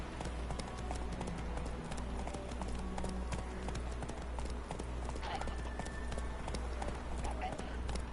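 Geralt's horse Roach gallops in The Witcher 3, with a fast, steady clip-clop of hooves running throughout under game ambience, mixed with voices.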